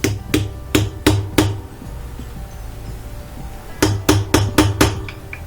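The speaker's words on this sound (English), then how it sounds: "So I'll take my socket with the extension, tap it on there." A socket on an extension is tapped onto the shaft of a Whirlpool washer, sounding as two quick clusters of sharp metallic knocks, about five taps each, close and clear with a quiet pause between them.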